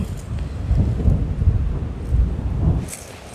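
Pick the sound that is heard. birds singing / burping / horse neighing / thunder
thunder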